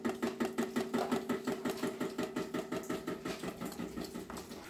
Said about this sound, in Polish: ten dźwięk jakby pracującego silnika to jest woda kapiąca na jakąś starą metalową